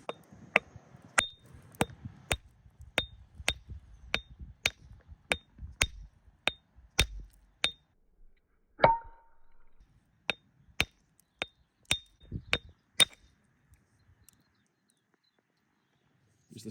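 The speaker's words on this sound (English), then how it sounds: "Let's give it a crack with the smaller hammer and see if there's anything else inside." Small hammer striking rock while splitting it open in a search for ammonite fossils outdoors, sharp metallic clinks in a steady series of about twenty blows with a brief pause partway through, near and clear with no talk.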